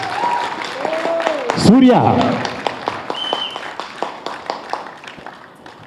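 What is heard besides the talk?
audience applause for a child actor in a playlet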